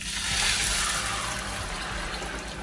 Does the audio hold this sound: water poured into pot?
yes